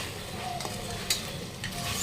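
Tomatoes stirred with salt and turmeric in a pan, a soft steady sizzle under a few light scraping strokes and a faint clink, close and fairly quiet, with no voices.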